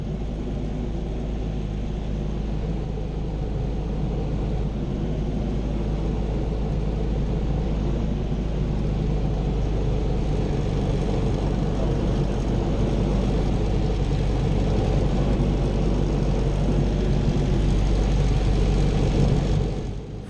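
Miles Falcon G-AEEG light aircraft engine droning steadily on the downwind leg of its approach to Biggin Hill, a loud, continuous propeller hum and rumble with no other sounds.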